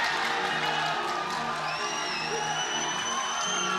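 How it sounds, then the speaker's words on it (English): Boxing arena crowd roaring and whooping in a steady loud wash after a body shot by John Riel Casimero against Filipus Ngitumbwa, with shouts and a rising whistle riding over the continuous cheer. "Crowd coming to life."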